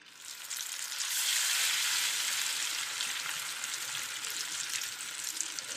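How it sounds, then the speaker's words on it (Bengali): Pieces of katla fish fry lightly in hot oil, a dense steady hiss and crackle that swells early and holds evenly throughout, close by with no talking. "তো যার কারণে সবগুলো একটু মাছ ভেজে নেব, হালকাভাবে ভেজে নেব, বেশি কড়াভাবে ভাজবো না।"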